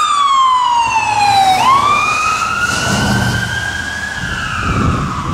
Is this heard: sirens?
yes